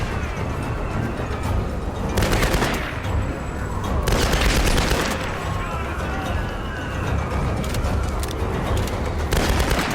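Rifle gunfire in the video game Tomb Raider, final level: dense bursts of rapid shots, loud and close, in several clusters over a steady rumble of game noise.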